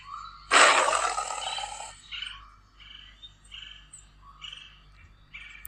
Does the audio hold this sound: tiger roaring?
yes